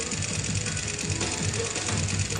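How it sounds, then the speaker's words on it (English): A camera's self-cleaning sensor unit vibrating, a steady close mechanical buzz with a fine rattling texture that holds evenly for a couple of seconds with no voice. "The self-cleaning sensor unit operates automatically whenever the power is turned on or off."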